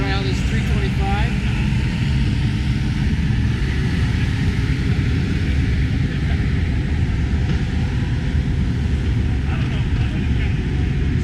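Engine noise from a 70-horsepower 325 skid steer loader running at the GIE Expo landscape equipment show, a loud steady drone with constant low rumble throughout, with people talking over it.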